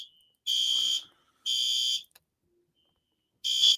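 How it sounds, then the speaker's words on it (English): A fire alarm sounds in loud, shrill electronic bursts, three blasts of about half a second each with gaps between, close and clear. "It seems to be a false alarm"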